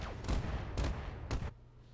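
Weapons fire at an enemy mech in a video game, three sharp, loud bursts spaced roughly half a second apart, then a quieter tail with faint electronic tones.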